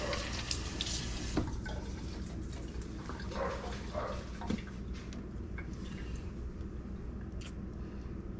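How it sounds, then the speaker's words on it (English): Water runs from a tap into a sink while hands are rinsed during prep for cooking a whole hog on a pellet grill, a steady close splashing rush with a few brief sharper bits and no talking. "Wash my hand here quick."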